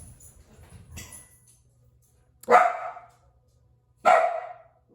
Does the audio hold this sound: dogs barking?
yes